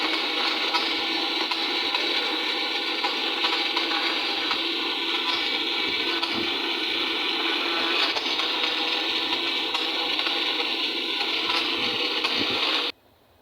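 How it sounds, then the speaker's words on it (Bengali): Electric blender grinding mango with water and sugar into juice, a steady loud whirring motor hum running continuously before cutting off abruptly at the end. "জল দিয়ে আর চিনি দিয়ে আমি এখন এটাকে গ্র্যান্ড করে নিচ্ছি"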